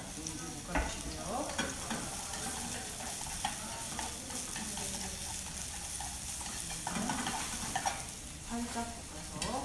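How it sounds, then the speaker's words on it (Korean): Salted, patted-dry cucumber stir-fried in a pan for japchae, a steady close sizzle with scraping and stirring clatter throughout, no talk. "깨끗한 재료 오이 절여서 물기를 닦은 오이를 볶아주시고요"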